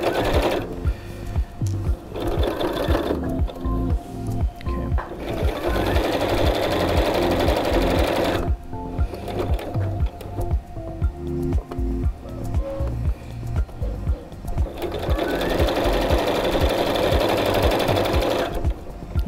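A sewing machine runs in several loud bursts of rapid rhythmic stitching through fabric, with brief pauses between runs, close and alone without talking.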